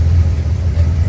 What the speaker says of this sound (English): Maybe you can kind of hear the exhaust.